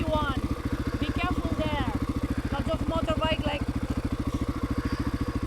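Off-road motorcycles, including an XR600R and XT600 Ténéré, churn through wet boggy terrain in a Tunisian rally, their engines a steady, throbbing mid-pitched drone throughout, with faint chirping sounds above.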